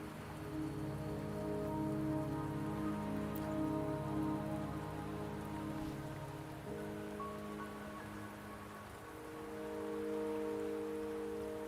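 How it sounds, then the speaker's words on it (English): Steady rain pours across an outdoor scene in the video game Wuthering Waves, a dense, even hiss of drops on surfaces that holds without pause, with soft musical tones underneath and no voices. "Don't worry, the rain won't last much longer."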